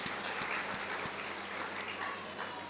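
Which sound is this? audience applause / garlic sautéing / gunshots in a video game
audience applause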